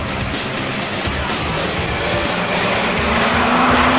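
Suzuki GSX-R 1100 racing motorcycles screaming down a straightaway, a dense continuous high-revving engine roar that stays loud and rises slightly in pitch as a bike pulls past.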